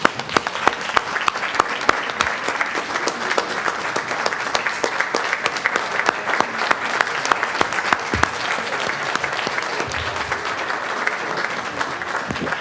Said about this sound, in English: And as we are clapping you up, we are going to take a 2-minute recess